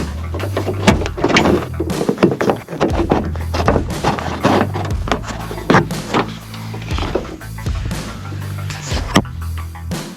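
The door of a Ford F-250 pickup, worked on during a door handle repair with the panel removed, gives off close mechanical clicks, latch clunks and rattles in an irregular series.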